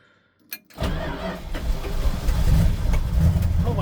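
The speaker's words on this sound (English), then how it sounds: "this is a nice winter cold start" A 1978 Dodge D300 pickup, parked for over 40 years, cranks in winter cold and catches: a brief starter burst, then the engine fires and settles into a steady, rising idle close by.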